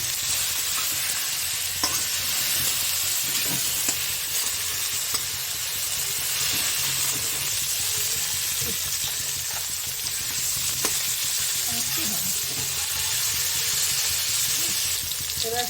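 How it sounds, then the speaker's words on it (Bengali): Cauliflower pieces frying in a pan with turmeric and salt, giving a loud, continuous sizzle and hiss with occasional stirring scrapes close by. "ফুলকপিগুলো ভেজে নেব একটু ভালো করে। একটু ভাজছি, অল্প একটু হলুদ দিলাম"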